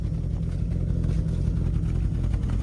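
A 1956 Chevy engine idles steadily up close, a low rumbling drone with a constant throb holding evenly throughout, with no pauses or speech over it.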